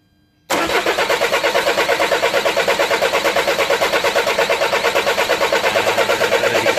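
A Citroen C4 Picasso 2.0 HDi diesel engine with a no-start fault and low fuel pressure cranks over steadily after a quiet moment, its starter churning in a fast, even, loud rhythm that never catches, with no talking.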